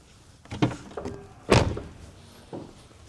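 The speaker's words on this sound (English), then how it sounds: "I'm going to go and open and close the driver's door" A car's driver's door is opened and then shut, giving a soft latch click followed by a heavier thunk a second later, close by in a quiet garage with faint clicks after it.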